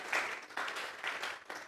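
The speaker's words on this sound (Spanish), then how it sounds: "vamos a regalarle ofrenda de palmas por amor" A church congregation applauds, a short burst of soft, uneven clapping that rises and falls in a few waves.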